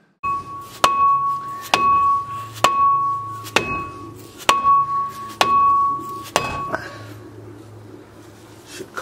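Seven heavy hammer blows strike a Ford Taurus brake rotor at a steady pace, each leaving a ringing, bell-like tone that fades before the next hit.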